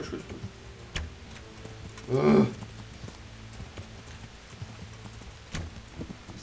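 A horse's hooves clop at a steady rhythm in the medieval game Kingdom Come: Deliverance, moderately close, with a brief louder burst partway through.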